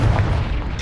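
A short, deep fiery boom of the Confringo fire spell in Hogwarts Legacy, a single low blast that rolls off quickly within a second, heard alone.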